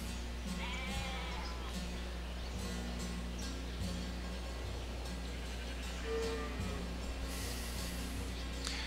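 Sheep bleat in the Civilization 5 strategy game, a few short wavering animal calls over a constant low synthetic hum and soft ambient game tones, with no one talking.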